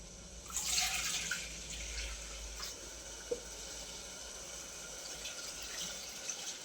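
Water poured into a cooking pot of urad dal, a steady, moderately loud splashing rush that swells early then settles into a continuous trickle with a few small clinks, no voices.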